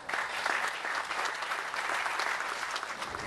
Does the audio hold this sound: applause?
yes